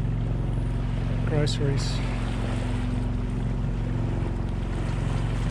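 A 25 ft small sailboat motors under its engine off the Queensland coast near Double Island Point, the engine's steady low drone and rumble running beneath wind noise while a person talks briefly.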